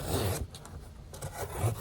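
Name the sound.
knife slicing through cardboard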